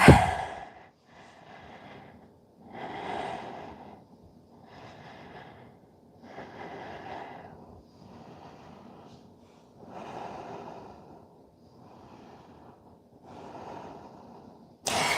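Slow, deep breaths taken while holding a yoga pose, with about seven soft, evenly spaced breathy swells rising and fading roughly every two seconds, close and quiet with no talking.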